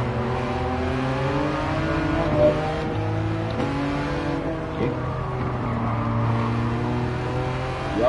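Race car engine in Gran Turismo 7, loud and close with stacked rising and falling harmonic tones as gears shift and revs climb and drop repeatedly, heard alone without talk.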